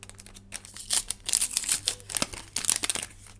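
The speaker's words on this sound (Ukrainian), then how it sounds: "Відкриваємо ось такий пакетик" Paper surprise packets from a Roblox collection being torn and opened, with bursts of crisp crinkling and rustling close up, irregular and busy throughout, no voices.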